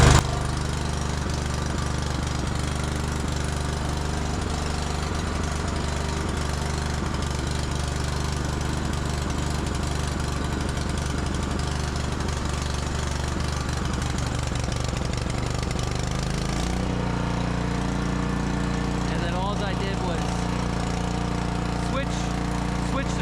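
A Cub Cadet Stage 3 snow blower (model 31AH5DVA710) runs after a pull start, its engine droning loud and steady at close range and shifting pitch partway as the throttle changes; no talk is heard.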